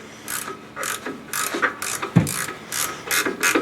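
Ratchet wrench clicking in repeated bursts on an engine at a salvage yard, a bigger wrench loosening bolts so the motor can come out; several close, crisp ratcheting strokes with short pauses between them.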